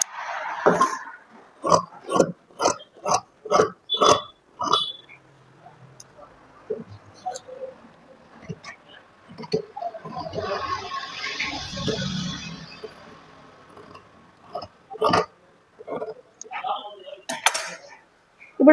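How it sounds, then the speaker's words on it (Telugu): Scissors snip through cloth blouse pieces in a quick series of crisp, close cuts, followed by quieter rustling of fabric and a few more scattered snips. "క్లాత్ని పట్టుకొని మనం బ్లౌజ్ పీసెస్ అటు ఇటు కదలకుండా చాలా జాగ్రత్తగా కట్ చేసేసుకోవాలండి ఈ విధంగా"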